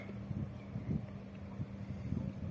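A small boat moves along the Ruhr river through a town, with a steady low rumble of engine or hull noise and some wind buffeting on the microphone, continuous and moderately close throughout.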